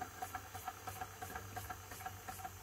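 Wilesco D305 toy steam engine running with its drive engaged, giving a fast regular chuffing beat over a steady hiss and light mechanical rattle, close up with no voices.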